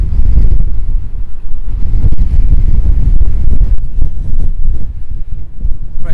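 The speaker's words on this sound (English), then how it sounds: "it's very blustery today, folks" Strong, blustery wind buffets the microphone on an exposed outdoor hillside, roaring in loud, uneven gusts with brief lulls between them.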